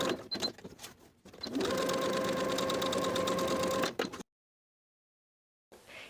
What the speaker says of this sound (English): Sew along our rectangle along both sides and the top edge, sewing right on top of our marked lines.